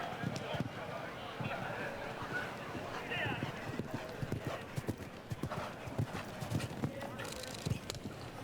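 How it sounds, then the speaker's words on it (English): A show jumping horse canters around a grand prix course, its hoofbeats thudding in an irregular rhythm at moderate distance, mixed with crowd and arena ambience while a commentator talks over it. "Horse is jumping very well thus far"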